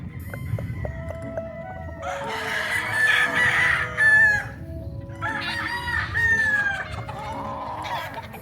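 Chickens cluck nearby on a Philippine gamefowl farm while roosters crow loudly twice in long drawn-out calls, with softer clucking continuing between and after the crows, on a rainy day.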